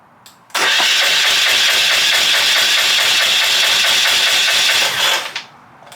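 A Hatz diesel engine on a pressure washer cranks and catches, jumping from quiet to a loud, rapid, clattering run that holds steady for several seconds before cutting out and trailing off.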